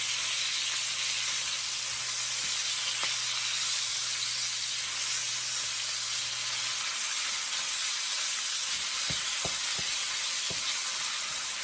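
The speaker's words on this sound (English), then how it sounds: "we're gonna fry our meat too" Meat frying in oil in a pan makes a steady, close, loud sizzle and hiss with a few crisp pops and clicks near the end.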